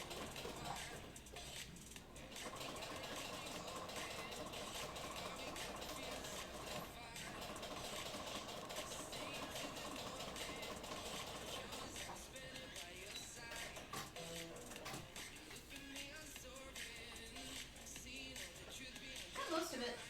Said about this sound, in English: We just finished sewing on the 2 black parts on this one.